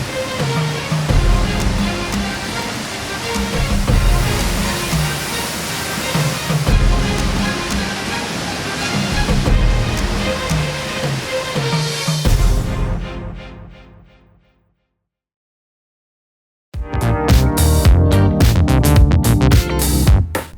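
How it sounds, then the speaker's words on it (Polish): Water sprays steadily in a railway train washing plant at a Łódź Agglomeration Railway depot that recycles its wash water, a loud continuous rushing that drops to near silence for a few seconds, then resumes just as strongly. "Myjnia pracuje w zamkniętym obiegu wody i wyposażona jest w podczyszczalnię ścieków."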